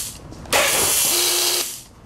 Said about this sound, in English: I'm just holding the pump. I want to feel it go.